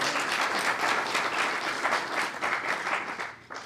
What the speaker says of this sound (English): Clap for Elizabeth again.